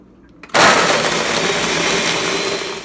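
After a brief quiet moment, a blender starts abruptly and whirs loudly and steadily as it blends pineapple chunks for a piña colada.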